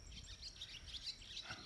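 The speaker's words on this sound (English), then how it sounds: "There's some swallows chirping away." Swallows chirp at a barn, a faint scatter of quick, high twittering calls running continuously over a low rumble of background noise.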